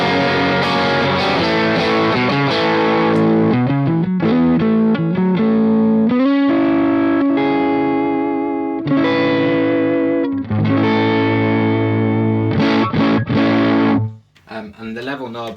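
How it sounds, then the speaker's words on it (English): Electric guitar played through a Triungulo Lab CE-1 Ensemble Crunch pedal set to high mode gives a fuzzy, distorted drive tone, loud sustained chords and notes ringing close before cutting off near the end. "you really get some awesome kind of fuzzy drive sounds"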